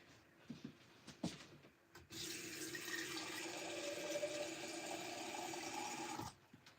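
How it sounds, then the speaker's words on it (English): Water running steadily from a tap as a container fills, a continuous broadband rush lasting several seconds after a few quiet knocks, then stopping abruptly. "That was me filling up water, by the way, not doing something else."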